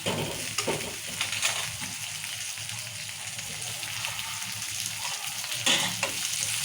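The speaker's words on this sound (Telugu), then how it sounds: "టమాటా కూడా మంచిగా వేయించుకోవాలి" Tomatoes frying in oil in a pan for a bottle gourd curry, making a steady, moderately loud hiss of sizzling with occasional soft stirring knocks throughout.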